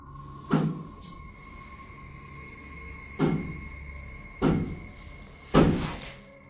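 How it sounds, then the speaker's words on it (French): Four heavy, evenly spaced thuds ring out in a hallway, each a loud knock against a steady background hum, fairly close and with no voices. "il entend des bruits de coups réguliers dans le couloir"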